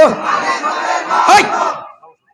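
A crowd at a Bangladeshi religious gathering roars a Takbir slogan in unison, a loud, brief collective shout that swells and then cuts off.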